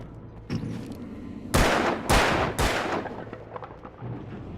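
Gunfire in the video game Alan Wake: three loud, sharp shots in quick succession with a rumbling tail, plus a softer earlier crack, set against low background ambience.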